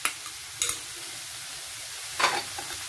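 Potato pieces go into a pan of cowpea and bean-pod vegetables over medium gas and get stirred, with soft sizzling throughout and a few sharper scraping bursts of the spatula near the start and toward the end.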